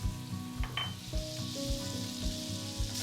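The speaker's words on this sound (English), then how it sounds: "add some butter to that and let that sizzle around." Butter sizzles and crackles steadily in a hot pan with pork chop drippings up close, with soft scraping and stirring thumps repeating underneath.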